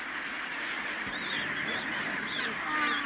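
A colony of chinstrap penguins at their stone-ring nest sites keeps up a dense, honking chorus of calls, loud and steady throughout with overlapping brays.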